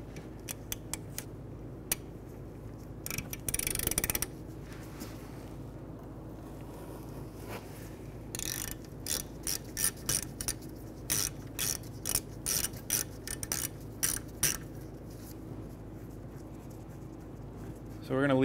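A ratchet with a shallow socket works a bolt near the brake hose on the rear hub of a 2015-2019 Hyundai Sonata, giving bursts of rapid clicking strokes that come and go under a steady low background hum.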